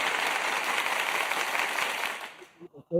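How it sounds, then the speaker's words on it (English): A room full of people applauds in a sustained burst of dense clapping that fades out near the end, followed by a few faint stray sounds. "Let me give you another applause. Let's give them another."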